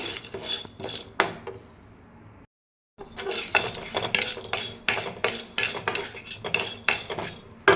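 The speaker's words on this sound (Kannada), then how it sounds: "ಚಕ್ಕೆ ಲವಂಗ ಸ್ವಲ್ಪ ನಿಧಾನ ಆದ್ರೂ ಸಣ್ಣ ಉರಿಯಲ್ಲೇ ಹುರ್ಕೊಳ್ಬೇಕಾಗತ್ತೆ" Cinnamon and cloves dry-roasting in a pan over a low flame while being made into chicken masala powder, with a metal spoon repeatedly clinking and scraping against the pan, stopping for a brief pause and then resuming steadily, close and fairly loud.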